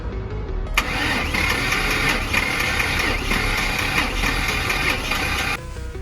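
A Ford Mustang GT's built 4.6 3V engine cranks and catches, then runs loudly and steadily for several seconds with a rough, pulsing roar before cutting off abruptly near the end.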